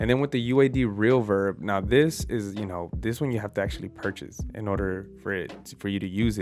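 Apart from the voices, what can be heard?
None of the usual background noises is heard.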